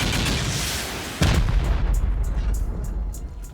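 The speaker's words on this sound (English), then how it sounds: "We'll keep sending rockets and then we'll go up and finish that thing off with some C4." Rocket explosions pound a base wall in the game Rust: a heavy boom bursts in at once and a dense roar rumbles on behind it, with crackling debris trailing off afterward.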